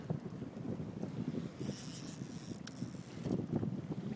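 On a boat in the wind, an Avet fishing reel's drag ticks and whirs mechanically as a bull shark pulls out line, with a brief thin high whine partway through over constant wind rumble.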